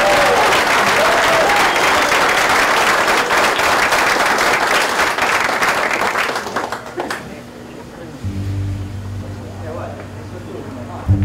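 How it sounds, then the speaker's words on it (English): Loud crowd applause for a live band performing at Habilitat, with dense clapping that fades after about seven seconds into a quieter room with a low hum and faint voices. "let's give them a round of applause"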